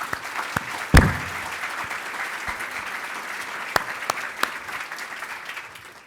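Steady audience applause for city staff at the Torrance State of the City address, a continuous wash of many hands clapping at moderate volume, with a few sharper claps standing out and no talk over it.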